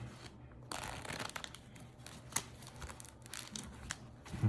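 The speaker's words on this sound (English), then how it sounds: "Maybe do a nice big shuffle here." Playing cards riffled in a big shuffle of a Magic dragon deck, a soft crisp flutter of card edges lasting a few seconds, close and fairly quiet with no talking.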